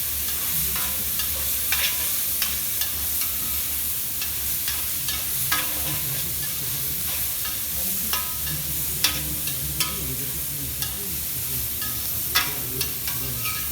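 Vegetables roasting in a pan give a continuous close sizzle and crackle, with frequent scrapes and clicks of a spoon stirring them throughout.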